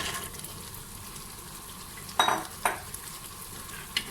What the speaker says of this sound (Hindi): लोबिया अच्छी तरह से भुन गया है